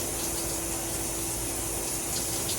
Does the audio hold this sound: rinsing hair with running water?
yes